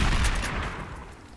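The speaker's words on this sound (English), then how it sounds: "I'm just gonna shoot you right here" A single loud gunshot rings out in Roblox Prison Life v0.5, a sharp booming crack that fades away over about a second with no talk over it.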